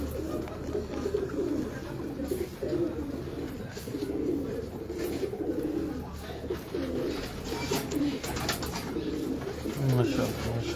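A pigeon held in the hand coos in low, rolling bursts at close range while someone talks over it, with faint rustling in the background.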